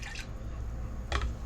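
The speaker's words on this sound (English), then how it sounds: "make a mess, drip a little bit, pour a little bit onto the counter rather than in the cup where it all should have went" Ginger coffee dripping and spilling onto a kitchen counter: two brief, soft liquid splats spaced about a second apart over a quiet background, with no talking.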